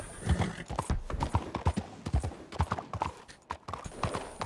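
Horse hooves clip-clop steadily in Red Dead Online, a rapid, even rhythm of close, loud hoofbeats with game ambience behind, no talk over them.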